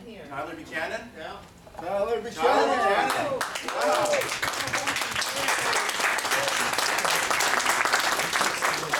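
People talk over a mixed crowd at a crowdfunding strategy talk, then a seminar audience bursts into sustained applause and clapping with some cheering that continues steadily to the end.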